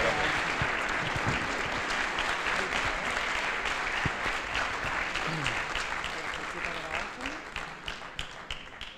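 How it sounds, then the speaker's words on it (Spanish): Dense audience applause at a technology entrepreneurship workshop welcoming the star speaker JJ Hombrados, loud and continuous, then gradually thinning into individual claps near the end. "os voy a pedir que le deis un fuerte aplauso a nuestro ponente estrella"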